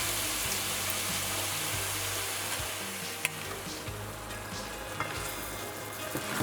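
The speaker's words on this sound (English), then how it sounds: "Mix and allow the tomatoes to break down. Next, go in with your chopped baigan or melon." Tomatoes and chopped baigan cooking in a pot are stirred over a continuous close sizzle, with soft scraping strokes and an occasional sharp tap, and no voices.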